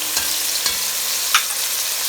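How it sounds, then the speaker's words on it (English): Spring onion, tomato, garlic and scotch bonnet pepper sauté in a pan for a Jamaican vegetable curry, a bright continuous sizzle close by, broken by a few quick stirring clicks. "I'm now adding spring onion, tomato, garlic, and scotch bonnet pepper. So these are going to be sauteed."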